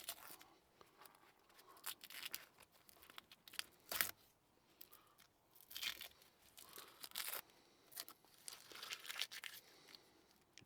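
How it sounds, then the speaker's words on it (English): Masking tape peeled off a Land Rover Defender steering wheel, quiet intermittent tearing and crinkling strips close by, with sharper rips scattered through the pull. "Get this masking tape off now."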